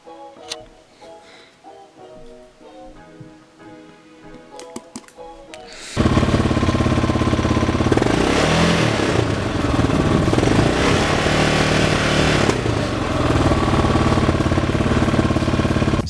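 Yamaha XT600 motorcycle engine, fitted with a repaired contact-breaker ignition, bursts into a loud, steady hammering run partway through after a quieter stretch of clinks and handling noises.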